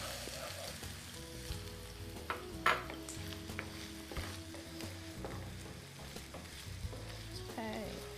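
Vegetables sauté in a pan for a Turkish-style Mediterranean vegetarian dish, a soft continuous sizzle under occasional stirring clinks and utensil taps, fairly quiet throughout.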